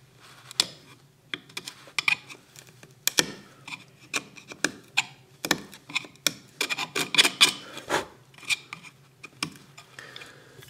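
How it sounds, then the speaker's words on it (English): Glue squeeze-out being scraped from a wooden guitar dovetail joint in a luthier's workshop: a close series of short, dry scrapes and ticks, irregular and busy, with brief pauses between strokes. "I'm just clearing out glue squeeze out that will get in the way of our dovetail fit."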